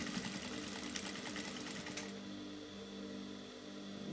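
A sewing machine stitching the side seam of a wide-leg jumpsuit with a half-inch allowance: a steady, close, rapid mechanical whir, busier in the first half and then settling into a smoother run.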